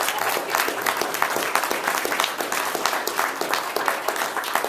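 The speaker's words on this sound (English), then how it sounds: "if we can have a round of applause for our speakers." A university debate audience gives a steady round of applause, a dense even patter of many hands clapping at moderate volume from start to finish.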